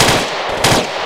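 A .50 cal machine gun firing in a military co-op video game, a loud, dense burst of heavy gunfire heard alone and close up for about a second.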